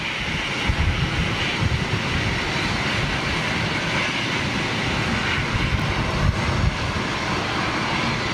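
Airbus A340-600 jet with Rolls-Royce Trent 500 engines, a broad steady roar with low rumble that holds loud and even throughout, no voices.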